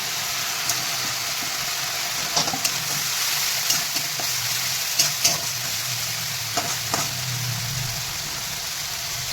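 Ground spices, chili powder and black pepper hit hot frying oil in a pan for a Bengali parshe fish curry, giving a steady, dense sizzle broken by occasional scraping stirs and small pops.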